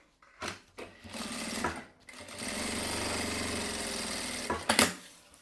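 A sewing machine stitches along the side seam of a fabric pocket and its lining in short rattling bursts, then runs in one steady whirring stretch, with a few brief starts and stops at the end.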